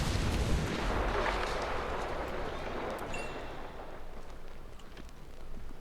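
Rumbling explosion in the video game Hitman: Absolution, a broad, continuous roar of blast noise and debris lasting several seconds, fairly loud and without speech.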